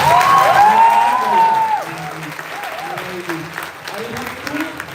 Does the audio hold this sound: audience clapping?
yes